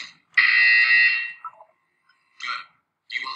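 A harsh electronic buzzer in the video game Portal 2 sounds once for about a second, loud and steady, followed by short bursts of a synthetic announcer voice in an otherwise silent space.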